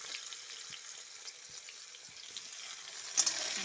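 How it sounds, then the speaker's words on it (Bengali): A vegetable curry simmering in a pan on the stove, a steady low hiss and faint bubbling, quiet and close, with a brief clink near the end and no talking. "সকালে ঝাঁট দিয়ে ড্রেস চেঞ্জ করেই তরকারি বসিয়ে দিচ্ছি"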